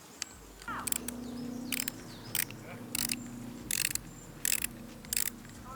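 Hex tool working bicycle stem bolts during trailside maintenance, a series of sharp ratcheting clicks in short bursts roughly every half second, close and clear over quiet background.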